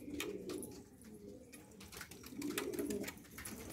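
Pigeons cooing softly at close range, two rounded low coos repeating in a slow rhythm over quiet background noise.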